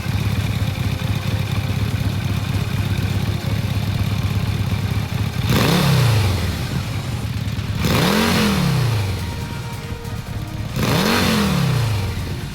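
A Yamaha V-Max with a modified inner silencer, extended and wrapped in glass wool, idles steadily, then is revved in three separate sharp blips that rise and fall back to idle, loud and close.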